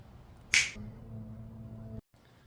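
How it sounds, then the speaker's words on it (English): A single sharp finger snap rings out close and alone in a quiet room during work on a car's new turbo install, followed by low background hum. "you snap your fingers and then it just appears"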